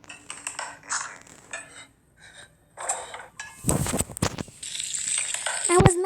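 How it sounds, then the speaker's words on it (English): Cartoon frying of fish in the Toca Kitchen 2 video game: scattered clicks and short bursts give way to a louder sizzling, crackling stretch with a few sharp pops toward the end, with no talking. "Now let's fry the fish."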